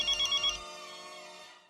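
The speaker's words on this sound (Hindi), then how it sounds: "अंजलि का फोन" A telephone rings in a Hindi TV sitcom scene, with four quick electronic trills followed by a longer sustained tone that fades away. A brief sharp sound cuts in at the very end.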